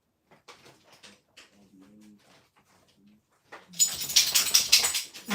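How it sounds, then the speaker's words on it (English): A big dog shaking itself in a room, a loud burst of flapping, rattling noise in the last two seconds after a stretch of quiet bird-like cooing. "You can hear my little dog, or my big dog, shaking himself"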